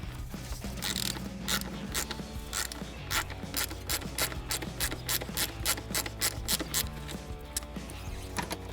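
Ratchet wrench loosening 8mm fuel rail bolts on a Mustang V8, a fast run of close, rhythmic clicks that repeat steadily over a low mechanical hum with no talking.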